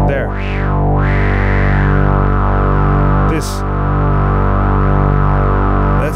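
A synthesizer tone driven through the Dominion 1 filter with heavy distortion, loud and gritty and held for several seconds, with two sweeping filter glides near the start and a sharp click partway through.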